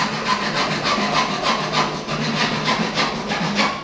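Hacksaw cutting through wood while building a bee hotel, a close, steady back-and-forth rasping of rapid strokes that continues without pause, with no talking.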